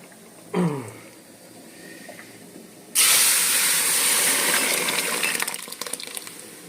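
Cooked dal tipped into a hot pan of oil and bay leaves bursts into a loud, steady sizzle that starts abruptly and holds for several seconds before easing slightly, with a short clatter beforehand.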